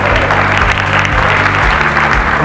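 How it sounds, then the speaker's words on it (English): Audience applause at the Oakville film festival gala in 2015, a dense sustained clapping from a large crowd filling the room steadily throughout, with no voices rising above it. "Give yourself a round of applause."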